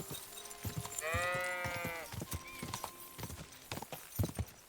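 Horse hooves clip-clop in Kingdom Come Deliverance 2, a quick run of soft footfalls that starts under a brief neigh and keeps on in an uneven trot, fairly close and quiet.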